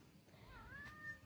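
A cat in a garden gives a single short, faint meow, rising then wavering, heard alone against quiet outdoor background noise.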